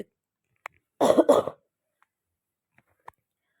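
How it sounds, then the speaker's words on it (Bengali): A woman cooking in a kitchen gives a short double cough, close and sudden, followed by a few faint clicks in otherwise quiet surroundings. "কথা বলতে বলতে গলায় মানে কাশি হচ্ছে খুব"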